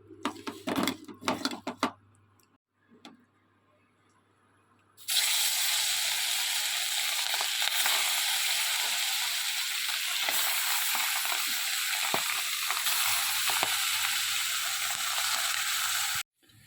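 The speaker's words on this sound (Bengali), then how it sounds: "আর কড়াতে দিয়ে দিয়েছি তেল" Oil in a kadai bursting into a loud, continuous frying sizzle after a few seconds of quiet clinks and handling sounds, with occasional stirring clatter over the hiss.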